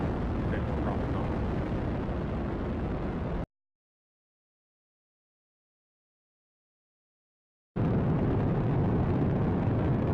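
SpaceX Falcon 9 rocket launch, a loud, dense, crackling roar that fills the air, cut off by a few seconds of total silence, then resuming just as powerfully, with mission voices faintly mixed in.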